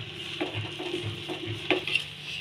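Cubed chapati pieces being stirred through a vegetable chilli in a pan, soft scraping strokes and a light clink of the spatula against the pan, close by with no talk.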